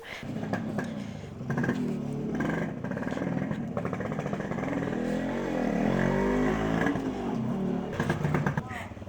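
A freshly started Yamaha RX100 two-stroke motorcycle idles and revs steadily nearby, its buzzing engine running throughout while people talk over it.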